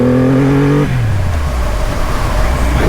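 A Triumph Rocket 3 R motorcycle accelerates hard up a slightly uphill on-ramp, its engine note climbing, then dropping at a gear change into a loud, rough rushing roar.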